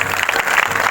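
A church congregation at a live prayer meeting claps for God, producing a dense, loud, continuous wash of applause with no break across the short burst.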